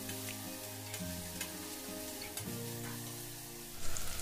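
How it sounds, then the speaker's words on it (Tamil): Chopped onion, ginger, garlic and tomato sauté in a pan for a bottle gourd curry, giving a steady close sizzle with a few soft stirring scrapes and a louder clatter near the end. "இதையும் 1 நிமிஷம் வரைக்கும் வதக்கிக்கோங்க."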